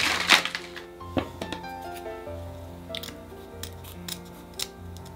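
Scissors snipping paper cut into turkey feet for a flowering mum holiday centerpiece, a series of close crisp cuts at an irregular rhythm over a faint background hum.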